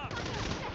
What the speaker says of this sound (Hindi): गोलियां चलाना बंद करेंगे प्लीज